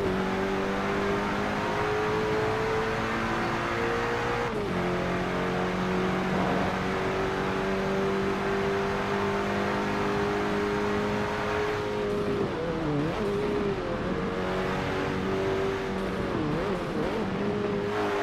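A 2018 McLaren 720S engine in Forza Motorsport 7 revs and pulls hard through the gears, with a continuous loud whine that rises and drops at each shift and no voices over it.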